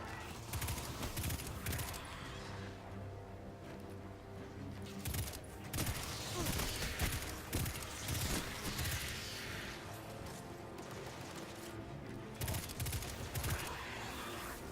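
Rapid gunfire and blasts in Destiny 2, dense bursts of shots with heavier booming hits spread across the stretch, in a busy, loud game mix.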